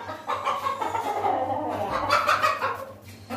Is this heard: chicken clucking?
yes